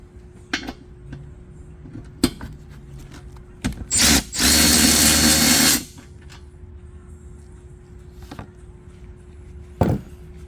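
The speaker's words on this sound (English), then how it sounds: "I'll also remove the drain plug" A power tool spins out the transmission drain plug on a Mercedes W164 ML350 4MATIC with a 7G-Tronic automatic: a few short whirring blips, then one sustained loud burst lasting about two seconds, followed by quieter clinks.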